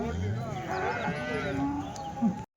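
Cattle moo at the weekly Punganur cow market, where HF and Jersey dairy cows are sold; a single long, low moo holds steady for over two seconds, close and clear, with faint crowd noise behind.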